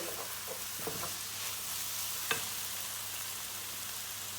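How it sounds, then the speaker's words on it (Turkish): Peppers frying in a pan for a chicken dish are stirred, giving a soft steady sizzle with a few quiet scraping clicks and one sharper knock near the middle, fairly faint and with no talking. "3-4 dakika oldu biberlerimiz olmak üzere. Bir karıştıralım."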